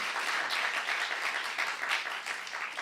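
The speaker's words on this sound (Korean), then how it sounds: "박수 한번 쳐보세요" A congregation clapping during a Saturday worship sermon, a steady, moderately faint patter of many hands with slight surges, heard on its own.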